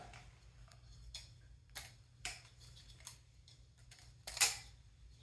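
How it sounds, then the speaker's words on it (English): An LDY Frank-P balisong knife snapped closed, its titanium, plastic and steel parts giving a handful of sharp, close clacks spaced irregularly, the last one loudest, over a faint low hum with no talk. "And then the closing is clacky and very loud."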